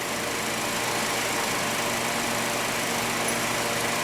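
A refrigeration compressor runs steadily, giving a loud, even mechanical hum over a wash of broad hiss that holds unchanged for about four seconds, with no voices.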